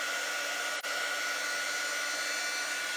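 A hair dryer blows steadily and loudly on a shirt transfer layer, a continuous broadband whoosh with one tiny dip partway through and no voices.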